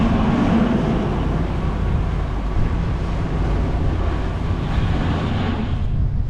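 A sailboat off Ibiza beats through strong gusty wind of 20 to 30 knots. Loud, continuous wind roar buffets the microphone with broadband rushing noise and no voices.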